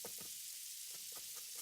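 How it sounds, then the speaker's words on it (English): A burger sizzles on a grill with a faint, steady hiss and a few soft knocks, heard quietly in a short stretch without talking. "we're going to have this grill going the whole show"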